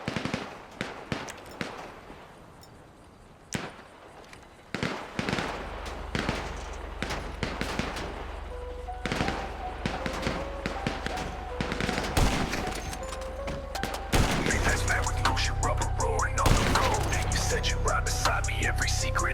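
Sustained gunfire hammers at an Insurgent LAPV Mark III armored vehicle in GTA 5: scattered shots at first, then dense automatic bursts over a steady engine drone, loud and close.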